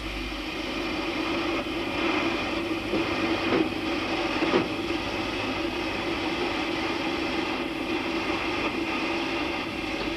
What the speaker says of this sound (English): Lion, a locomotive that achieved fame in the film The Titfield Thunderbolt